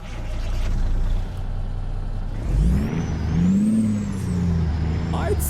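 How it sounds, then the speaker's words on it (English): A Kenworth T660 truck engine in American Truck Simulator turns over and settles into a steady, loud rumble, with a rising whir and a brief hiss of air partway through. "we'll start the truck up"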